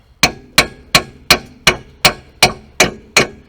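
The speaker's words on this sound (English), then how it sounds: "Let's just tap it." Hammer tapping a rear brake part on a Hyundai Elantra, nine sharp metallic clangs at an even, steady rhythm, close and loud with no talking.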